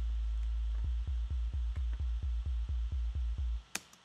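A lone sub bass from a Massive synth, built from one sine oscillator, throbbing in a steady series of deep pulses, loud and alone, before stopping abruptly with a brief click.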